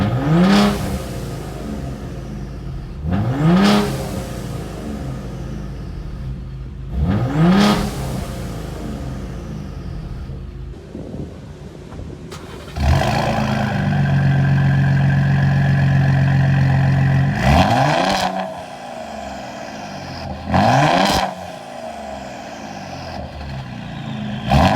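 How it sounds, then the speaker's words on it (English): Car fitted with aFe equal length catless downpipes, revved repeatedly, with its windows open except the moonroof: sharp throttle blips fall back to idle, then a longer sustained high rev, then more blips, loud and close with no talk. "Revving with all windows open,"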